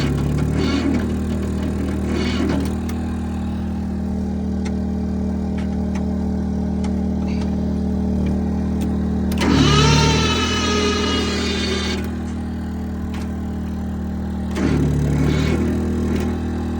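A Jinma Farm Pro tractor sits near a generator that drones steadily throughout a cold start attempt at 17 degrees, and the engine cranks in three loud bursts of whirring and clatter, close and without speech.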